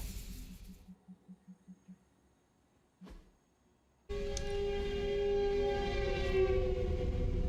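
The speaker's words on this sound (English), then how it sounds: "That's the train that comes by all the time." Train passing nearby, rising suddenly to a loud sustained rumble with a horn-like tonal blare, after a quiet stretch with faint rhythmic tapping and a single sharp click.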